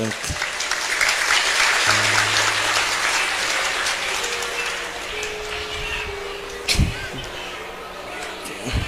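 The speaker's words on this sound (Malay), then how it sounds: "Tepuk tangan Mansyaul Ulum" Crowd at a Madurese-language religious lecture claps for a long stretch as a dense, rain-like wash. A short thud near the end and some faint voices come through.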